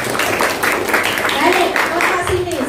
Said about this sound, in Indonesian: Nah, kita ya, Mas Fahri, tepuk tangan untuk Mas Fahri.